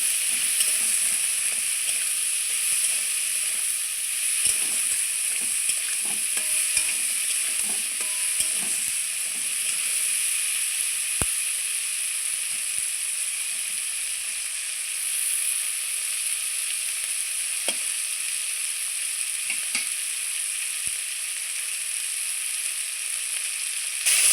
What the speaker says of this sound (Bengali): পেঁয়াজ আর ফুলকপি আমার ভাজা হয়ে গেছে